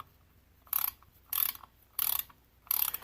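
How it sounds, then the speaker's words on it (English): A torque wrench ratchets as it tightens a plug bolt on a Chevrolet ZR2 front differential, four crisp bursts of clicking evenly spaced about half a second apart, close and clear against near silence. "torque your upper bolt to 18"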